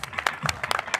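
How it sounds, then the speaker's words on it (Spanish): Applause follows a 2vs2 match against subscribers in Madrid, as a small group claps in a loose, uneven patter of separate hand claps. "un aplauso para Tresco."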